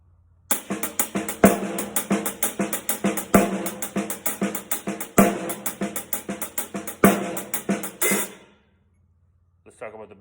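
A drum kit plays a Purdie shuffle up to speed, crisp ghosted snare and hi-hat strokes in a rolling triplet groove with heavier accented backbeats, close and loud, ending abruptly before a brief faint tail.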